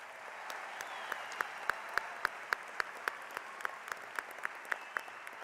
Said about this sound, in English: let's have one more round of applause for those great performers